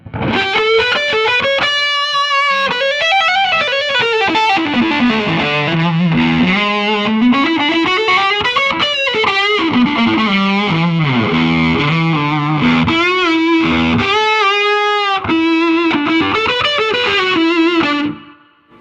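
An electric guitar runs through a Way Huge Swollen Pickle fuzz pedal with the voice control turned fully right, playing a continuous, smooth, saturated fuzz line with sliding bends, loud and alone.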